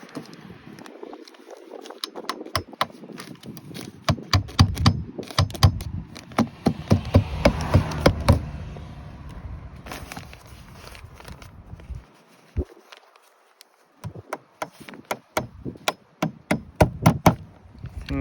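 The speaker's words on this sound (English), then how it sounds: "we're going to be just using very small nails for this one." Small nails are hammered to fasten insulation into light wood exterior wall framing, giving sharp close knocks in quick bursts of repeated taps with short pauses between groups.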